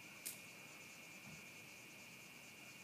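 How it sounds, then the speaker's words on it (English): Crickets trill steadily on an Australian summer evening outdoors, a thin, continuous high-pitched chirring that holds evenly throughout at low volume, with one brief faint click near the start. "So I can notice the sound of crickets as it's summer here in Australia."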